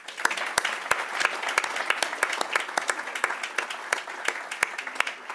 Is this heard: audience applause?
yes